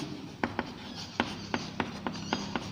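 A pen scratches steadily across paper as someone writes a definition by hand, with quiet, evenly spaced strokes and taps close by and no voice.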